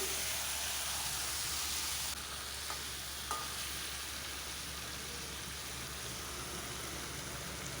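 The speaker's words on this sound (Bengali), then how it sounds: "চিকেনটা এখন আমি হালকা নাড়িয়ে দিচ্ছি।" Chicken sizzles steadily in a pan while being stirred lightly, a constant broad frying hiss with a couple of faint utensil clicks and no voices.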